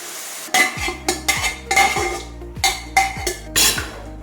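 A spoon scrapes and clanks as beef curry with shallots and onions is stirred in a pot, about eight sharp metallic strokes in an uneven rhythm over a low simmer, close and fairly loud, with no speech.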